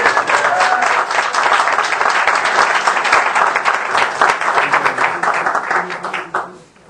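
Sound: applause

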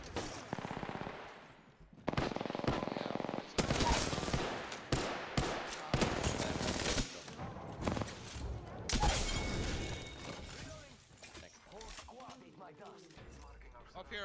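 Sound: gunfire in the video game Apex Legends

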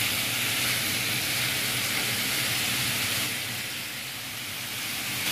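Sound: fish sizzling in pan as lemon juice is added

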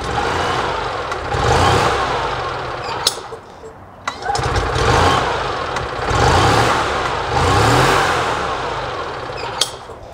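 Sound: rebuilt Robin EH-29C 295cc engine running on EZGO TXT golf cart

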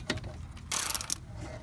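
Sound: ratchet with 12 mm socket removing brake line bracket bolt

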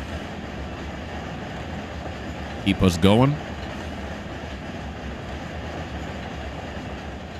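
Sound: train locomotive running, from video game Run 8 Train Simulator

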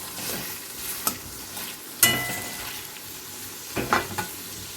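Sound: onions frying in a pan

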